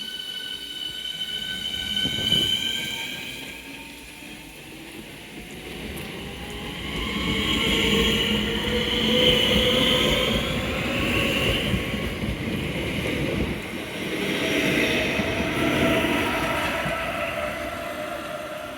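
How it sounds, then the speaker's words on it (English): A Southeastern train departing for Cannon Street rolls along with steady rumbling and rising and falling wheel noise, with high metallic squeals from the wheels on the rails, loud and close. "And this train is now ready to depart for Cannon Street via Sidcup."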